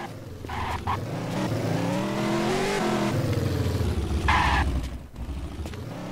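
A car drives and revs in the video game Infestation, its engine note rising and falling with a brief tire squeal near the end, loud and continuous with no talk.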